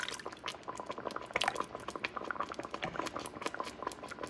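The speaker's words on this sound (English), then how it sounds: "this is a high heat now because I want it to boil a little bit before I lower the heat" Broth for ropa vieja at a rolling boil over high heat, with dense, steady bubbling and popping close by and no talk.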